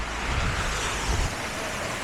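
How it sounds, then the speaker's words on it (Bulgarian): A waterfall roars in a steady broadband rush near Lakatnik, loud and constant throughout, with no talk over it. "А тук има бати якия водопад."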